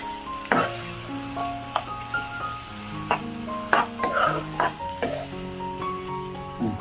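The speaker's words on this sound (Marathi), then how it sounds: "चांगल्या प्रकारे आहे ना भाजून घ्यायचं कांदा आणि टोमॅटो।" Chopped onion and tomato fry in oil for spiced masala rice, a soft sizzle beneath irregular scraping stirs of a spoon against the pan, close and fairly loud, with steady tonal hum underneath and no talking.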